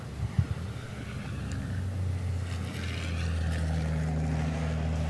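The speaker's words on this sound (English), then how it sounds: "just listen to the Iveco roar down the straight" Iveco racing truck engine roaring down the straight at the Slovakia Ring, a loud steady drone that climbs in pitch as it gathers speed, heard alone with no talk.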